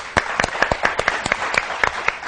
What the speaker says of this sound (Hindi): ये तालियां